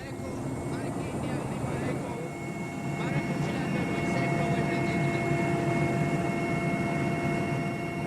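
A very heavy Soviet-made helicopter flies north from Addis Ababa over the Ethiopian highlands, its steady, dense engine roar filling the background throughout while a voice speaks over it.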